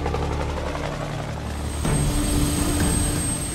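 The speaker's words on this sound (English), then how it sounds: "JT, AKA Ivan, will be joining the fray in a Russian combat helicopter called the Hind." A Russian Hind combat helicopter in a flight sequence: a steady, moderately loud rotor and engine drone that thickens slightly midway, with no talk over it.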